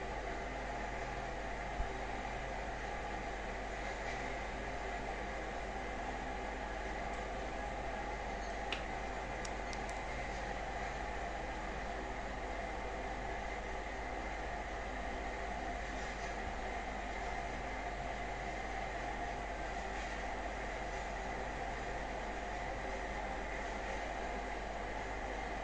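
The Hortobágy EC express train runs in a train simulator game, giving a steady, unbroken rolling rumble and hiss throughout with only faint clicks and no voices.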